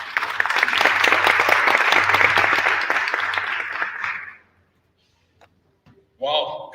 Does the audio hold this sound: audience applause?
yes